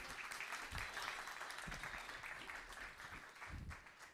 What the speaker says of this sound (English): can we have a round of applause for Jody